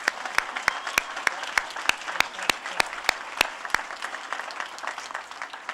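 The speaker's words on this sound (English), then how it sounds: "please join me one more time giving a big round of applause for the Governor and Trudy Inslee" Audience applauding the Governor and Trudy Inslee at a bill signing ceremony: a close, lively round of clapping with distinct sharp individual claps standing out from the steady patter throughout.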